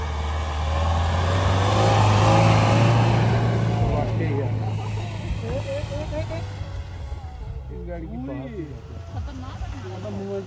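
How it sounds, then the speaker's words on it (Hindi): A Mahindra Thar SUV engine revs and strains while climbing a snowy, stony slope, a loud steady drone that swells then eases, with people talking and shouting nearby throughout. "मोशन में आ रही है गाड़ी आगे"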